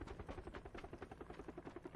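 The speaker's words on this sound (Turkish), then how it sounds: "Helikopter." Helicopter in the video game PUBG: Battlegrounds, its rotor thudding in a fast, even pulse, faint and distant as it approaches, with no talk over it.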